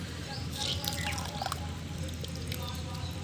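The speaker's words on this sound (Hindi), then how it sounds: "अब इसको आप अच्छे से निचोड़ के" Water drips and trickles from a soaked kokedama soil ball as it is squeezed by hand, a close, fairly steady wet dribble over a low background hum with no talk.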